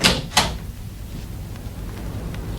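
A front door opening in a radio drama: two quick, sharp latch clicks close together at the start, then a quiet room hush with no voices.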